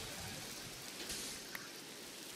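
Steady video-game rain hisses evenly throughout, a soft continuous wash of drops with one brief tick near the middle and no voices.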